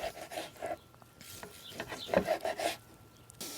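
A knife draws thin slices across the grain of mesquite-grilled tri tip, giving soft, irregular rubbing and scraping strokes close by with brief pauses between cuts.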